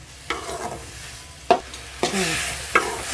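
Finely chopped tomatoes sizzle in a pan over a low flame, with a soft continuous hiss broken by several sharp stirring scrapes of a spoon against the pan.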